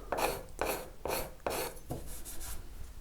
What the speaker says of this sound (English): I've just taken a card scraper and kind of worked down and removed